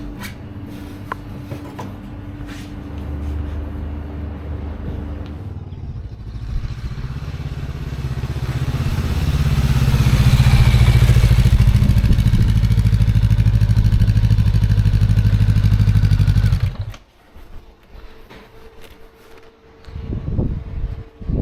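A Honda NX500 motorcycle with upgraded front suspension rides past, its engine note building to a loud close roar and then dropping away abruptly, with clattering and wind noise around it.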